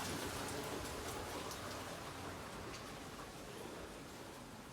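Rain falls outside as a dense, even wash of soft hiss with faint scattered drop ticks. It is steady and fairly quiet throughout, with no voices.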